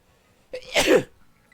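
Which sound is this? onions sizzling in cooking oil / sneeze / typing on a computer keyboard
sneeze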